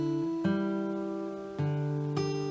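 Clean fingerstyle guitar notes, two plucked at once with a pinch technique, ring out alone, each new pluck sustaining into the next, with a brighter attack near the end.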